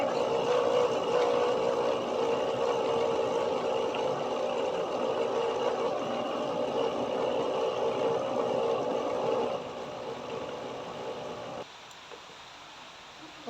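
A blender whirs through guyabano (soursop) and condensed milk, a steady mid-pitched motor drone that drops in level twice before settling into a quieter hum.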